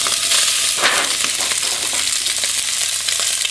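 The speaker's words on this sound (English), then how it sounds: "and we're going to saute these first." Sliced Johnsonville mild sausages sautéing in olive oil in a hot Dutch oven, with a steady bright sizzle and crackle, close up, plus a few stirring scrapes and no talking.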